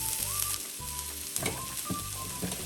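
Broccoli and vegetable pieces sizzle steadily in a hot pan over medium heat in a vegan dinner, a continuous frying hiss with a few soft stirring clatters, close and alone without talk.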